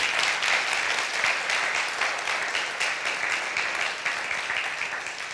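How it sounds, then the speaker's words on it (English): A crowd applauds steadily, dense clapping that holds at an even level for several seconds before easing slightly. "Can you please join me in a round of applause for our special educators?"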